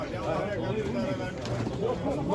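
Soft, low pigeon coos murmur steadily at close range at an Istanbul bird market on a rainy day, overlapping one another with no clear pauses, against a faint background hum.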